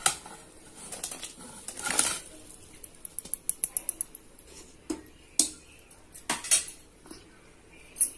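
Lentil dumplings dropped one by one into a pot of simmering gravy, giving scattered clinks and soft plops of utensils against the pot, irregular and fairly close, with no talking.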